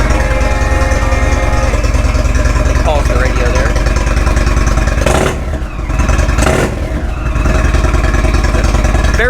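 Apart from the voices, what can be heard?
2016 Indian Roadmaster motorcycle, Thunderstroke 111 engine exhaust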